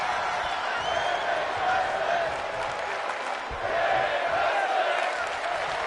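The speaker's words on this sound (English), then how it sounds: "The crowd here in Tampa cheering on these women." Crowd at a women's pro wrestling event in Tampa roars and cheers steadily, a dense, fairly loud wash of voices swelling and dipping slightly across the clip.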